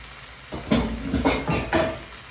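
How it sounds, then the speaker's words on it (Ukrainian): Cabbage with onion and carrot stewing in a hot pan, with soft sizzling and several scraping strokes of a utensil in an even rhythm, close by. "Буде тушена капуста і з цибулькою і морквою."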